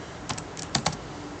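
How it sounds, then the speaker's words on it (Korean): Keys tapped on a computer keyboard while entering a spreadsheet formula, a few quick close clicks in an irregular burst against quiet room tone. "자, 는 찍고"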